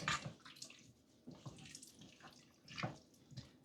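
Water pours from a tap into a pot of chili con carne in a home kitchen, coming in quiet uneven splashing bursts close by.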